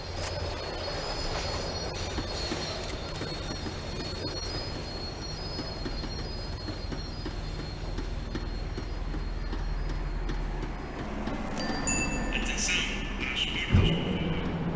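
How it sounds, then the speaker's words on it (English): A tram in the Max Payne 3 video game slows down, its wheels squealing loudly and steadily against the rails over a low rolling rumble, ending with a sharp clunk. "The tram was slowing down, and I'd only just gotten on board."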